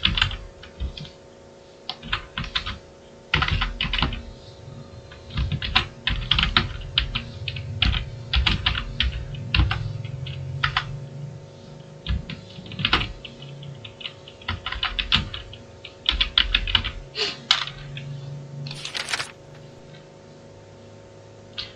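Fingers type on a computer keyboard to log into an account, giving close, crisp keystrokes in quick irregular bursts with brief pauses, no speech.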